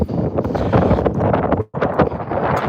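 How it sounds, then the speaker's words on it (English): Gusting wind buffets the microphone on an outdoor dog walk with eight dogs in Edinburgh, a loud, steady low roar that drops out briefly near the middle before returning. "Oh, it's getting a bit windy, isn't it?"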